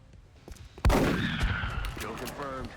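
A single shotgun blast in XCOM: Enemy Within cracks sharply and loudly, then trails into a ringing, whooshing decay with game effects as the shot lands.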